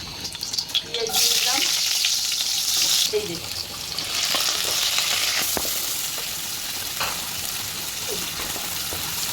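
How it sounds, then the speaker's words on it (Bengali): Nigella seeds hitting hot oil for a shrimp curry, a loud close burst of crackling sizzle that settles into a steady hiss with occasional pops and light clinks. "তেল দিয়ে দিলাম কালি জিরা দিয়ে দিলাম"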